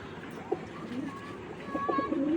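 Soft, low coos from a pair of pigeons at a pigeon farm repeat close by, a few throaty warbling calls over a light background murmur.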